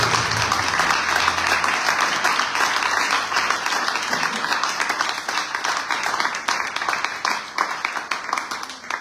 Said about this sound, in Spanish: Hay un aplauso al Señor